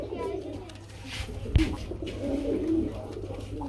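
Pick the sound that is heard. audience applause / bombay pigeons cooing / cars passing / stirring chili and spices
bombay pigeons cooing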